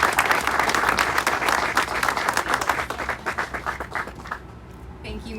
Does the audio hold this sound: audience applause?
yes